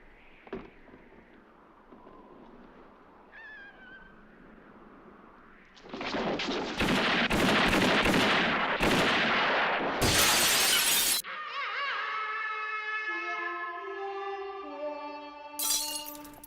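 Gunfire in a classic western film showdown: after a quiet tense lead-in, a loud flurry of sharp shots and crashing, shattering impacts erupts, followed by swelling orchestral music.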